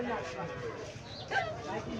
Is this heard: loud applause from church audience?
no